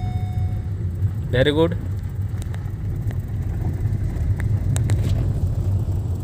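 A car drives along a road with a low, steady engine rumble as the driver shifts up through the gears, while people talk briefly over it.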